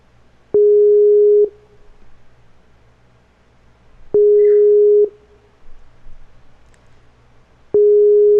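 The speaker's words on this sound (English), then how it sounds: "That sound you hear is Skype." A Skype call's busy signal sounds three times as loud, steady one-second tones separated by long gaps of near silence.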